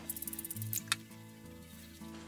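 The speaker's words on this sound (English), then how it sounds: "get a spray of olive oil." Olive oil spray hissing briefly onto a sheet of filo pastry on a greaseproof-lined baking tray, a few quick close spritzes over a steady low background hum.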